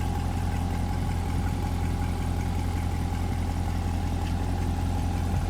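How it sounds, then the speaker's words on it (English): A 2020 Chevrolet Corvette Z51 with dual-mode exhaust idling, a steady low rumbling drone held evenly throughout, close and fairly loud with no talk over it. "Dual mode exhaust system changes like they did in the C7s based on which mode you're in."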